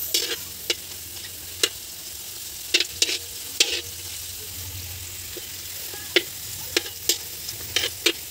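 Hotdogs frying outdoors, a soft continuous sizzle broken by sharp spitting pops scattered irregularly across the moment, with no talking.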